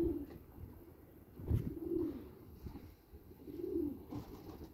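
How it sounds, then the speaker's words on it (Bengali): Bangladeshi pigeons cooing nearby, several soft low coos repeating in a loose rhythm over quiet background, faint and unaccompanied by talk. "বাংলাদেশি কবুতর না?"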